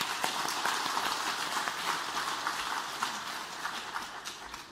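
Church congregation applauding a guest pastor invited to speak at an early-morning service, a steady wash of many hands clapping throughout, moderately loud and continuous.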